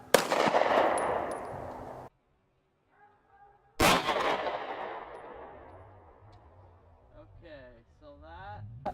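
A 9mm bullet strikes a frying pan set at an angle, giving a sharp, loud gunshot crack with a metallic ring, a second loud blast after a pause, and decaying reverberation with brief background sounds.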